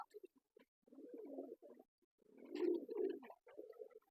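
Pigeons cooing close by in soft, throaty bursts, a couple of short calls then longer rolling coos, with brief pauses between.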